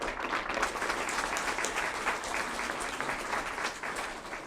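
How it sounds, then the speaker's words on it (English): Audience at a city council meeting applauds with steady, fairly quiet clapping from a modest crowd, sustained evenly for several seconds. "Please give them a round of applause too."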